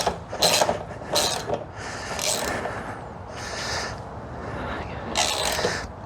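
Bolts on a Honda NC750X pannier rack tightened by hand with a wrench, giving a series of separate ratcheting, clicking mechanical bursts over steady low background noise.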